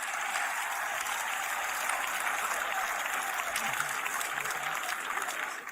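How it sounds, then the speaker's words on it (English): A church audience clapping for Jesus, dense continuous applause from many people, even and fairly loud for almost six seconds, with a faint voice underneath. "Shall we clap for Jesus?"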